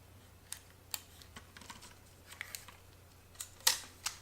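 Small plastic clicks and snaps from locking the three axis locks on a Moza Weebill Lab travel gimbal, a scattered series of quiet, close taps with one sharper click near the end.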